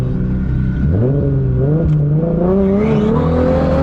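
Drift car engine revving hard through a Mega Drift training run, pitch climbing in rising sweeps, loud and close, alone without talk.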